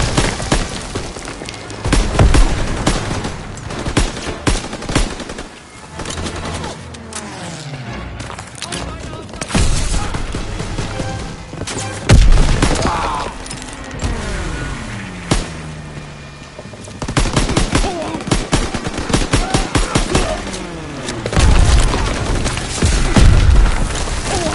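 Artillery and mortar strikes in a Call of Duty WWII Rhine battle, with deep booms and crashing blasts recurring among battle noise and shouted voices over about twenty-five seconds.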